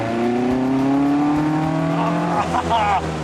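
A car engine revs up steadily with rising harmonic pitch, loud and close, while a voice comes in near the end.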